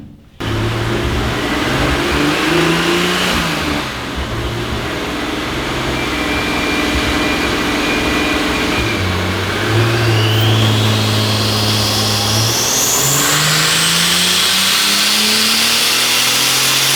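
A turbocharged BMW E34 sedan engine, built to around 500 horsepower and running low boost, revs and accelerates loudly up close, its pitch climbing through gears, dropping at shifts and rising again, with a whining turbo note above the drone.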